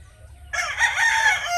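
A Spark Grey gamecock rooster crows once, close and loud, a strained, drawn-out call rising out of a quiet low background hum.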